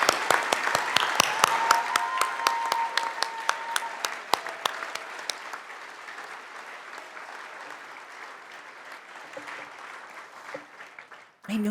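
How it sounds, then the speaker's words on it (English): An audience at an award event honoring caregivers applauds, dense clapping loud at first with sharp individual claps standing out, then thinning and fading over about ten seconds. "this applause is for you"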